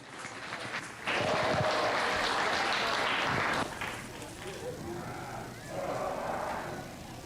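Applause at a Wayne County Junior Fair livestock show arena, a steady burst of clapping for about two and a half seconds. Crowd noise and a voice continue underneath before and after.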